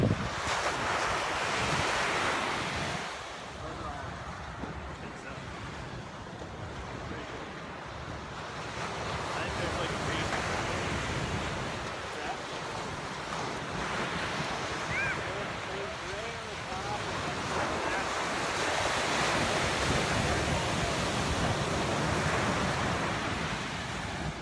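Ocean waves break and roll onto a California surf beach in a steady, broad roar that swells and eases, with wind buffeting the microphone throughout.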